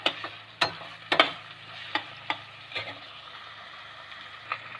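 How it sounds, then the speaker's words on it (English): Onions frying in a pot for peas masala rice give a soft steady sizzle, with several sharp clinks and scrapes of a spoon stirring against the metal, close but fairly quiet. "So we have to fry the onion until it becomes light brown in color"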